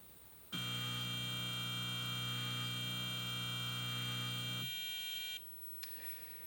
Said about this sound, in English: There's a buzzer in here, and there's a beep on the computer.